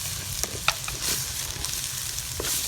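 Tomatoes frying in a pan for chicken gravy with Kashmiri chilli powder, giving a steady, dense sizzle close up. Occasional light taps and scrapes of stirring break through, with no talk.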